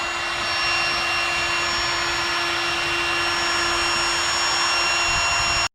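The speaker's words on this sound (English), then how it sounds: "ya solo enciendo mis router y vamos a hacer el bocadito que va a ocupar lo que es la bisagra" A DeWalt router cuts a hinge recess into a door, sustaining a loud, close high-pitched whine with steady tonal overtones over a broad rushing roar, running without a break until it cuts off abruptly at the end.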